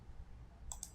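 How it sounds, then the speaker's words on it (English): Two quick clicks near the end of a short quiet stretch sound like computer keyboard keys being tapped close by, over a low background hum. "Wait, let me just type it again."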